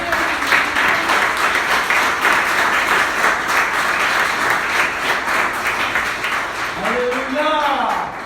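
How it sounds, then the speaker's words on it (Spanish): A church congregation claps and applauds for Jesus during an evangelist's sermon, a steady, full wash of clapping that runs for the whole stretch, with a voice speaking over it near the end. "Denle un aplauso a Jesús"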